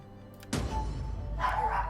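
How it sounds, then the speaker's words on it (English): A dog barks once sharply, then gives a rougher follow-up bark, close and loud over low background noise while a Total War: Medieval Kingdoms 1212 AD strategy game is being played. "do apologize about barking"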